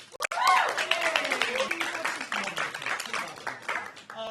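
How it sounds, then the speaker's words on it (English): Friends and family in the audience of a stand-up comedy class show clap and cheer, a close, lively burst of applause mixed with whoops and voices that tapers slightly toward the end. "Round of applause if you're here to support a loved one"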